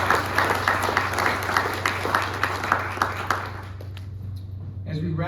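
An outdoor audience at a Pearl Harbor Day ceremony in a garden claps steadily for a few seconds, the applause fading out before a voice begins speaking at the end.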